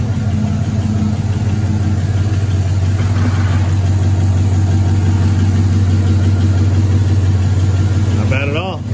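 A rebuilt Cadillac Escalade engine idling close by, a loud, steady low rumble with an even hum that holds without change for the whole stretch; a brief voice is heard near the end.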